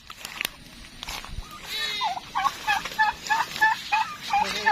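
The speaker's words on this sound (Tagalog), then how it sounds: "Manghuhuli kami ng pabo." Turkeys gobble repeatedly while being caught outdoors, rapid warbling calls rising in a series of close bursts, with people talking and calling out in the background.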